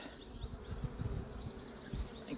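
Honeybees buzzing at a hive during a colony inspection, a soft continuous droning hum with individual bees flitting past, faint and close, with no voices.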